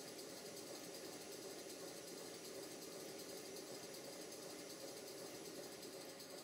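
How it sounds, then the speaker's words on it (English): A 5 inch gauge GWR 14xx model steam locomotive runs on a small gas burner, giving a steady, even mechanical whir and hiss that holds at the same level throughout with no pauses and no voices. "I'm just going to let the engine run and see whether it gets any better or any worse"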